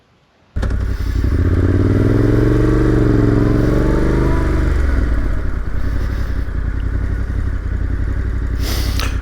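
Yamaha T7 adventure motorcycle leaving the road to ride off-road: a loud, close, steady engine drone with clattering and scraping over rough ground, running continuously after a short quiet start.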